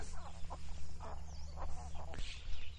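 Ducks by a farm pond give scattered soft quacks and clucking calls, faint and somewhat distant over a low steady rumble, with a brief sharp knock near the end.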